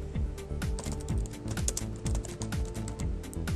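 Rapid keystrokes clatter on a computer keyboard, close and evenly paced, while a new device name is typed in.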